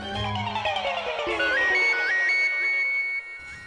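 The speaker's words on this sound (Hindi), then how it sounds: "अरे मही, मेरा एक बहुत इंपॉर्टेंट फोन आ रहा है, मैं बात करके आता हूँ।" A phone ringtone plays close by, a bright electronic melody with repeating chirpy tones, loud and steady with no talking.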